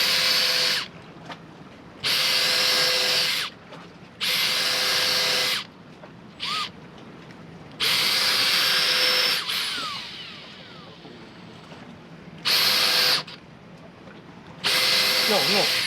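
A power drill drives screws in repeated bursts of loud, close whirring, each lasting one to two seconds, with short pauses and brief quieter sounds between runs.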